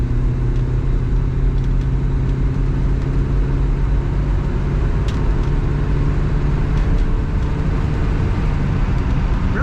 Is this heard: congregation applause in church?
no